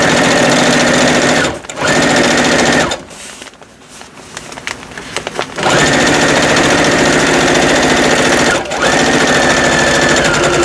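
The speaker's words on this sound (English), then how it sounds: "I'm going to do some stitching on the front after that." A sewing machine stitches fabric covers for mixed media pieces, a loud, close, continuous mechanical whir that stops briefly twice and pauses longer in the middle before running again.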